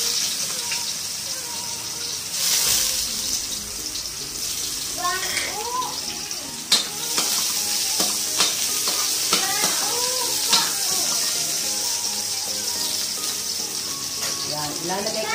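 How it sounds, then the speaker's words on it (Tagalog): Garlic and then onion sautéing in oil for pork dinuguan with radish, giving a steady sizzle with stirring and scraping clatter throughout. A few faint bursts of talk sit underneath. "Unahin kong igisa itong garlic. And then, itong onion."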